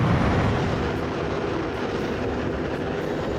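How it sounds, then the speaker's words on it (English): An ERJ-145 jet in the X-Plane flight simulator with thrust reversers deployed gives a loud, steady broadband engine roar that fades slightly over a few seconds, with no talking. "Look at those reversers, guys. Oh, I love those type of reversers."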